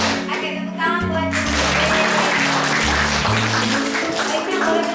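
Classroom of students clapping and applauding at a teacher's prompt, a loud steady wash of hand claps with voices mixed in and a low hum underneath.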